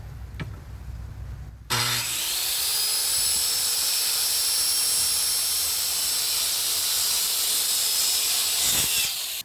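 Circular saw whining up and biting through a wooden shed rafter cut at an angle, one steady loud cut of about eight seconds that starts abruptly and ends as the blade spins down.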